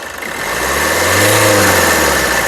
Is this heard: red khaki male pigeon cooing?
no